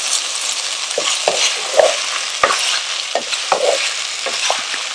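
Onions and chili peppers fry in a pan for chicken enchiladas, a loud steady sizzle with occasional stirring scrapes and knocks close by, no talk.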